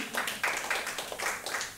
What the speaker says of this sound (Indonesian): Tepuk tangan buat Tuhan Yesus yuk